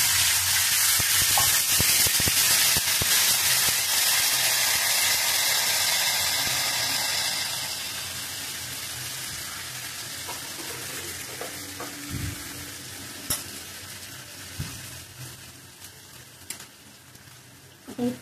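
Water hits a hot tempering of cumin, curry leaves and asafoetida with sugar, bursting into a loud sizzling hiss that gradually subsides into softer bubbling and occasional stirring clinks, close up.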